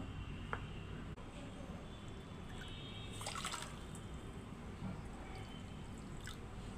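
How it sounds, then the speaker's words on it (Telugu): Water poured into a pan of sugar-free powder for a simple syrup offering: a steady, close, low liquid splash runs throughout, with a few brief drips and clinks rising above it. "దీంట్లో నీళ్లు పోసి మరిగించుకుంటాను"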